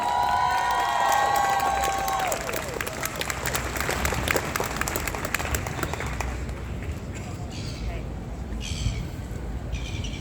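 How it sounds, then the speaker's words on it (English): A large protest crowd at an outdoor Palestine rally in Auckland claps and cheers in a sustained, dense wash, with a whistle-like tone and shouts at the start and faint voices underneath as it slowly eases. "Can we give her a big round of applause?"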